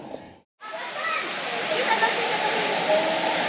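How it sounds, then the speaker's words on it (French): Waterfall in a Colombian canyon, a broad, continuous rushing hiss of falling water that starts after a brief cut and stays steady and loud, with no pauses. "Je viens d'arriver à la cascade."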